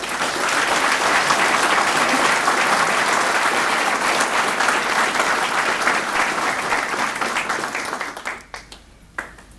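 Crowd applauding at a military retirement ceremony: a full, dense wall of clapping that holds steady for most of the stretch, then thins out into a few scattered final claps near the end.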